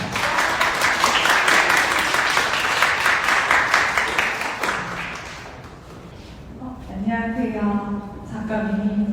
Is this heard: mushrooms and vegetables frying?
no